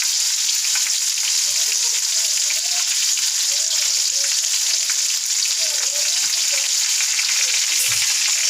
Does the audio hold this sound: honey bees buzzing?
no